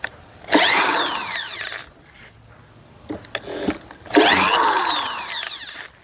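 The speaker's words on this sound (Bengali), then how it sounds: "জালি খোলার জন্য এখন আমি একটা ড্রিল নিয়ে নিয়েছি।" A power drill whirs in two separate bursts while removing the metal grille from a JBL speaker box. A quiet gap in between holds a few small clicks and knocks, and no one speaks.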